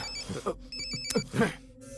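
A telephone rings in short repeated electronic trills, fairly close, with a brief pause between bursts and no talking.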